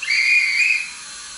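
A guard's whistle from a Bachmann Atlantic South Foreland model locomotive's sound decoder gives one short, shrill, steady blast lasting under a second, then fades to faint hiss.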